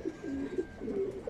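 Soft cooing from a pair of Sabji breed pigeons, close by, with several low rounded coos in a gentle uneven rhythm.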